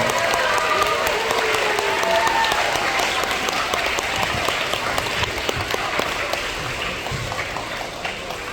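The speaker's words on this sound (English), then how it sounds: "let's go ahead and give them a round of applause" Children and adults at an elementary school assembly give a long, sustained round of applause for kindergarten through second-grade students, dense clapping that slowly eases toward the end.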